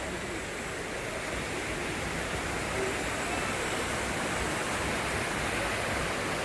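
A waterfall roars as a dense, continuous wash of rushing water, steady and unbroken at moderate loudness, set amid thick trees at a monsoon picnic spot near Mulshi.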